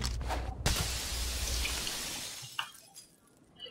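Glass breaks in the video game Payday 2, a loud close shatter with a crunching burst followed by a long wash of falling shards that thins out, with a few scattered clinks at the end.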